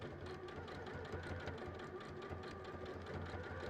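A sewing machine stitches raw edge applique on a quilt with matching colour thread, giving a steady, close, continuous mechanical whir and rapid needle chatter with no talking.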